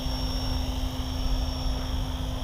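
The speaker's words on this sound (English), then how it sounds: "That is a solid helicopter." An SAB Goblin RAW 580 radio-controlled helicopter flies on its maiden flight, making a steady whirring rotor drone with a constant whine, moderately faint and continuous, with no talking.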